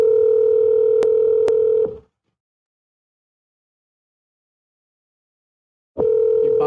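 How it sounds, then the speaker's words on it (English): A telephone dial tone hums steadily, cut by two short clicks, then stops for about four seconds of silence before the continuous tone returns, loud and close with no voices. "Let's dial it up."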